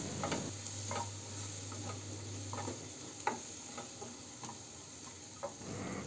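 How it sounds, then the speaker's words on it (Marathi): Chili powder and half a spoon of turmeric being stirred into hot oil in a pan for Maharashtrian zunka, a soft steady sizzle with scattered light scraping stirs throughout, close and alone with no talking. "आता छानपैकी मसाले मिक्स करून घ्यायचे।"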